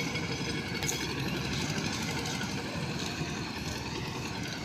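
A boat engine drones steadily as a river ferry crosses a fast-flowing river near Panchagarh, a continuous mid-distance hum with faint water and ambient noise.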